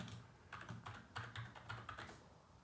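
Quiet keys tapped on a computer keyboard in a steady, even typing rhythm, close and soft with no talk.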